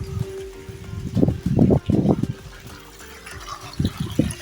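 Water gushes from a hose into a new heated swimming pool being filled in the UK, arriving in loud uneven splashing bursts with brief lulls between them, close by.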